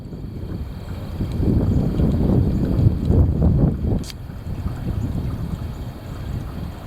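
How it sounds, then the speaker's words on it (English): Heavy wind gusting across the microphone outdoors, a steady low roaring rumble that swells and eases over several seconds with no voices. "The heavy wind."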